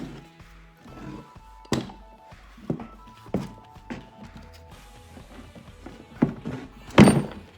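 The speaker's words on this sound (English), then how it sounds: "now we're gonna stand the gearbox up" A car gearbox being handled and stood up on a workbench, giving a series of irregular dull metal thunks and knocks, close and moderately loud, ending in a heavier clunk, with no talk.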